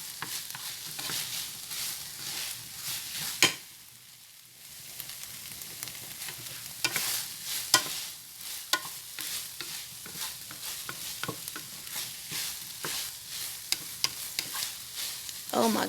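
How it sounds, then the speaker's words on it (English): Garlic and ginger sauté with ground beef in a pan, a steady close sizzle broken by frequent sharp clicks and scrapes of stirring, briefly dipping quiet around four seconds before the frying noise returns alone. "I added in the garlic and ginger. And now I'm letting that saute for about a minute or two"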